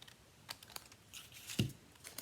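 A paper journaling tag is being cut during a craft session, heard as a few quiet, sharp clicks and snips spaced unevenly over a faint background.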